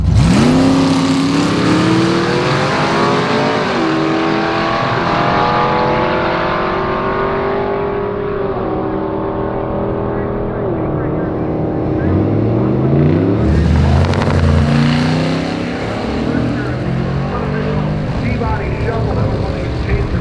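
Drag race car with a T-body platform restarting at the starting line after trouble, the engine firing up and revving in rising, falling sweeps, loud and close, with an announcer talking over it.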